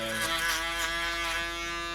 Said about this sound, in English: So you do this thing with the shaver and the foil.